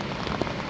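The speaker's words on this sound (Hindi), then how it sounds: "बारिश की कड़कड़ाहट, पत्तों की सरसराहट और बूंदों की हल्की हल्की आवाज़ों" Rain falls steadily on an outdoor nature walk, a soft even patter of raindrops with one slightly louder drop near the middle.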